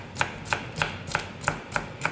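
A knife chopping garden vegetables on a board, seven crisp evenly spaced strikes in a quick steady rhythm, close and clear with no talk.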